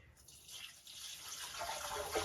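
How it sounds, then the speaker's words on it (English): Water gurgles down a newly installed drain in an off-grid Alaska cabin, a faint, close rushing that builds in strength over a couple of seconds. "it sounds like a drain"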